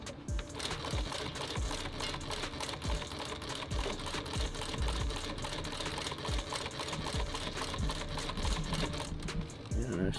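A sewing machine stitches a tactical belt in a rapid, steady mechanical chatter that runs nearly nonstop for ten seconds, close and even in loudness.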